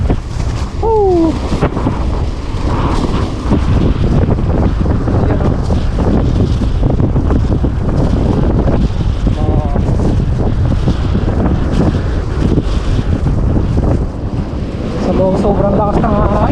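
Strong night wind in Punggol Park roars and buffets the microphone in a loud, unbroken rush, with brief voices heard through it.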